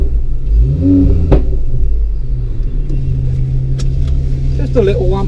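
Ford Focus ST3 on a night drive, the engine rumbling loudly in the cabin with a rev rise, a sharp crack early on and a few short pops later, while a voice talks.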